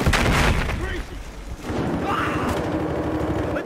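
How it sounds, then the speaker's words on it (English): A planted charge detonates in the video game Battlefield Hardline during a bank heist, a loud booming blast with scattered gunfire around it, followed by a rumbling, crackling tail. "Charge planted! Charge detonated!"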